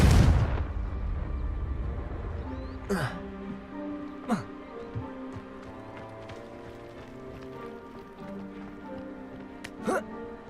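A Confringo blasting spell in Hogwarts Legacy sets off a loud explosive burst right at the start, which fades into a rumbling decay, followed by faint game sounds and a few sharp magical whooshes.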